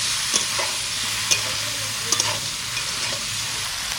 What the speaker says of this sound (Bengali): এবার বেগুনটা চাপাবো।